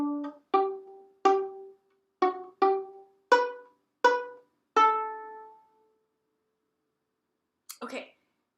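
The opening notes of Hark! The Herald Angels Sing come from a violin as eight separate plucked-sounding or short bowed notes, each decaying quickly, followed by silence and a brief faint noise near the end.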